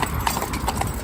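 Hooves of a pair of Friesian mares clip-clop on a road, a quick, even rhythm of close, crisp strikes that carries on steadily without pause.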